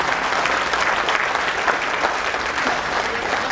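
A seated audience at a general body meeting in Hyderabad breaks into dense, steady applause that holds at an even, loud level throughout, with no voices over it.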